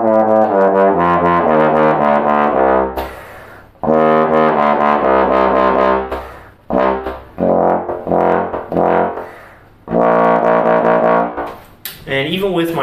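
A Bach 50B3OG horn plays sustained, resonant notes and short phrases in a room, changing pitch between held tones with brief pauses between passages.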